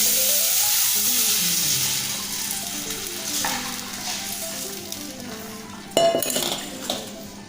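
Ground spice paste, mixed with water, hits a hot, smoking clay pot with dried red chillies, sizzling and frying steadily while a utensil stirs and clinks against the pot, with a sharper clatter toward the end.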